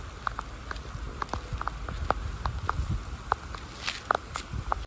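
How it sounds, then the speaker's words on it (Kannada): Steady rain patters outdoors while someone walks through it, with footsteps landing at a fairly regular pace under the soft, continuous hiss of falling water. "ಮಳೆ ಒಳಗೆ ವಾಕ್ ಮಾಡ್ತಾ ಇದ್ದಾನೆ, ಬಿಡ್ತಾ ಇಲ್ಲ"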